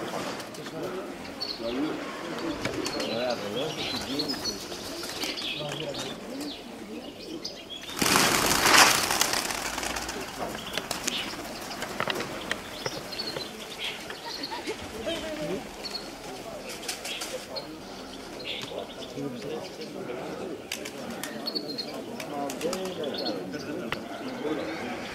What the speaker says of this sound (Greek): Έρχονται ακόμα, έχει κι άλλα πουλιά ακόμα.